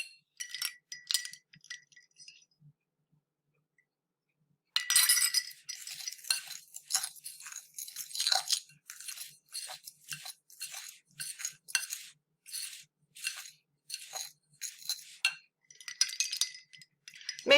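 Spoon scraping and clinking against a bowl while stirring pie crust dough, with repeated short rattling strokes in a steady rhythm after a brief pause, close and fairly crisp.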